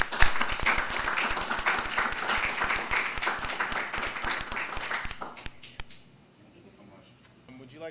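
An audience applauds the panelists at a community conversation event, a full burst of many hands clapping at once that carries on for several seconds before tapering off into near quiet.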